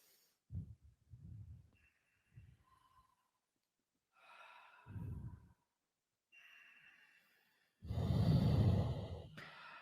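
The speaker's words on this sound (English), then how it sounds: "It might take more than one exhale through your mouth." During a yoga session, breath is pushed out through the mouth in several separate exhales and sighs, quiet and close, spaced by silences, with a fuller, longer breath near the end.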